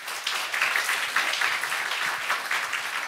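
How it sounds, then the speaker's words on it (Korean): A church congregation gives a hearty round of applause to welcome missionary Kenneth Bae at a Friday worship service: dense, steady clapping from many hands throughout, fairly loud and with no voices over it. "우리 케네스 배 선교사님 나오실 때 우리 힘찬 박수로 환영하겠습니다"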